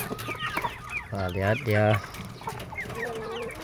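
Free-range village chickens cluck busily while being fed at home, with a couple of loud, close squawking calls in the middle and someone talking briefly over the flock.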